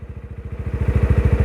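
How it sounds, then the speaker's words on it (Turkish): A geared motorcycle engine chugs steadily as the clutch is slowly let out, a close, regular low pulsing that grows slightly louder and faster over the moment, with no voices. "Evet motorun şu an sesi değişti."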